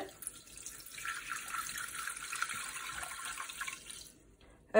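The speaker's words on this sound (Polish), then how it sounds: "Więc wlewam 440 gram wody." Water pours steadily into a Thermomix TM6 bowl while making pizza dough, a continuous close splashing stream that cuts off near the end, with no talking.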